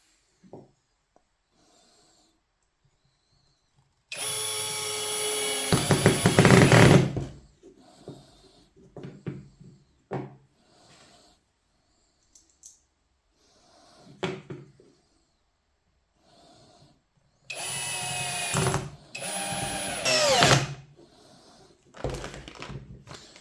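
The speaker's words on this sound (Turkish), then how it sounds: "Hadi gelin bu ikisini birbirine bir vidalayalım" A power drill drives screws into a wooden frame in two loud whirring bursts several seconds long, separated by quieter handling clicks and taps of wood.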